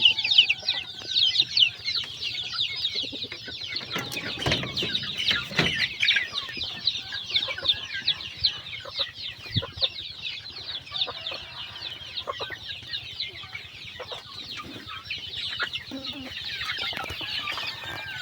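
Native chickens crowded in a coop during very hot weather, dozens of hens clucking continuously in an overlapping chatter that runs throughout, with occasional sharper calls standing out.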